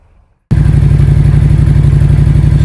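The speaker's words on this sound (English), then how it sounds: "I've got to get the engine up to temperature." A Honda VT750 Shadow Spirit motorcycle engine starts abruptly after near silence and settles into a loud, steady, throbbing idle, running outdoors in the rain while it warms up.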